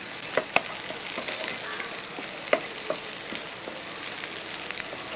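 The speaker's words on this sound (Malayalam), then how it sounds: "ഉള്ളിയൊന്ന് മൂപ്പിച്ചിടുക എന്ന് പറഞ്ഞു." Small onions frying in hot ghee, a fine crackling sizzle throughout with a few sharper pops and spits, fairly quiet and close, with no voices.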